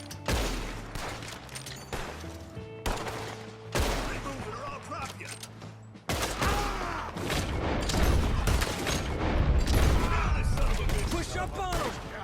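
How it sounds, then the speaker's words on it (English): Rapid gunfire in a Red Dead Redemption 2 shootout, dense overlapping shots and booms crackling continuously and growing louder and busier in the second half, with voices calling out amid the battle. "We're gonna have to shoot our way up there!"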